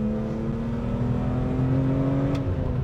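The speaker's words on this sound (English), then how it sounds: "you hear that boosty noise coming out through the exhaust" A supercharged BMW E46 M3 engine revs and accelerates with a rising, whirring drone that builds steadily through the exhaust, heard from inside the car.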